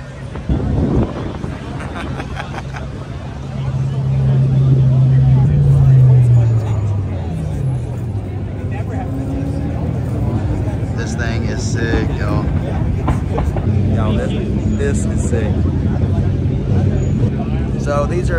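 A Lamborghini Centenario V12 hypercar, one of 20 built, gives off a steady low engine rumble with a brief rise in pitch midway, heard outdoors under wind noise and nearby voices.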